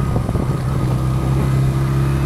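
Motorcycle engine hums steadily and loud during a ride, with a low drone and faint rising revs and no speech.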